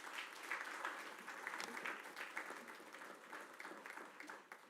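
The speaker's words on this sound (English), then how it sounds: "one more round of applause for our 6 newest police officers" Sustained applause from a crowd at a school police swear-in ceremony fills the room, steady clapping at moderate distance that fades slightly near the end.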